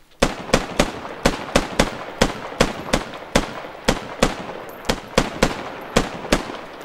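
Gunfire in the video game Squad rings out as a long string of sharp, loud single shots at an irregular but steady pace, about twenty cracks spread over several seconds, close by with no talking.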